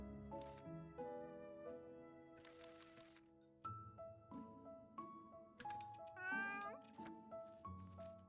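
A cat in a video game meows several times in short, clear calls between soft background music, with a quiet voice talking at points.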